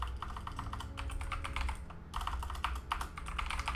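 Fast, steady clicking of computer keyboard keys while someone plays World of Warcraft: Dragonflight, heard close and fairly quiet, with one brief pause partway through and no talking.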